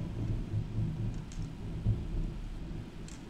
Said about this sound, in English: That is some crazy thunderstorm we have.